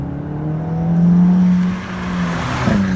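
A VW Golf GTI Mark V accelerates in sport mode on a suburban street, loud engine heard from inside the car, rising steadily, then dropping briefly at a gear change before climbing again.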